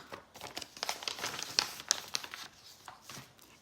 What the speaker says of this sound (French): je vais ouvrir la lettre